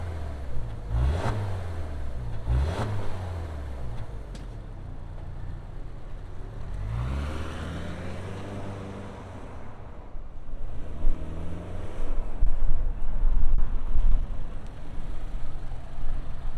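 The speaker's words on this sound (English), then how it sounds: "Let's fire up this flat 4 and hear what it sounds like." A 2025 Subaru Forester Sport's flat-four engine cranks and catches with a loud rise, settles into a steady idle, then swells again, heard close and alone without talk.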